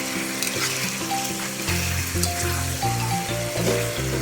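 Pork with potato sizzling and frying in a pan while being stirred, a steady loud hiss of frying running under background music.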